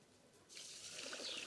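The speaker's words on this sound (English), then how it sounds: "so pour enough water to wash your rice." Water pouring onto rice for washing, a soft hiss that starts after a brief quiet moment and continues faintly, close to the listener.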